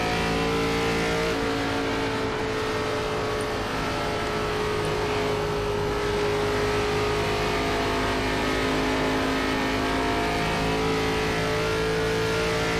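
A race car engine in the iRacing ARCA Series at Texas drones steadily and loudly throughout, with a strong, sustained harmonic whine and slight pitch shifts as the car keeps driving.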